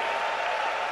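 Congregation applause fills a church service, a dense steady wash of clapping with no gaps, loud and close throughout the brief moment.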